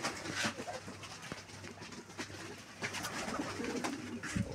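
Fancy breed pigeons in a sale loft coo softly amid a busy, noisy background of shuffling and scattered bird sounds, with no clear speech.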